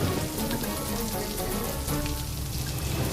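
Heavy rain pours steadily in a dense, even hiss. No distinct thunderclap stands out over the roughly three seconds of downpour.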